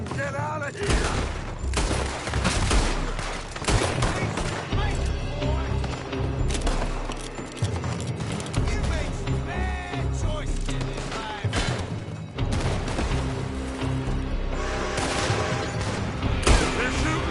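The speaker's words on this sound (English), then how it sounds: "They're shooting from that building." Heavy gunfire during a shootout in Red Dead Redemption 2, with shots coming from a building, a continuous barrage of loud cracks mixed with game noise and voices talking over it.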